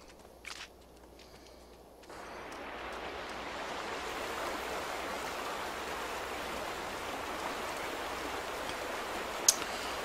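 Flowing water in The Vanishing of Ethan Carter video game, a steady broadband rush like a stream or falling rain that swells in after a brief quiet start and holds evenly, with a faint click near the end.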